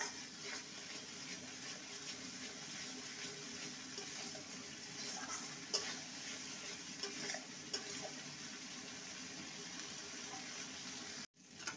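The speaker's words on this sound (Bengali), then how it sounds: "এবার ভালো মতন কষিয়ে নেব। পোস্তর কাঁচা গন্ধটা চলে যায় সেইভাবেই নেড়ে নিতে হবে।" Poppy seed paste is stirred and fried in a pan, giving a faint steady sizzle with occasional soft scrapes, ending in an abrupt cutoff.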